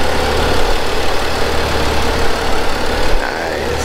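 A BMW 135i with the N55 engine, tuned to Stage 2+, idles with a steady, loud low rumble, close by and without talk.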